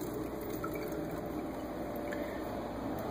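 Filtered cold water running from a tap on a refrigerator or dispenser, a faint, steady hiss and trickle that continues unbroken throughout.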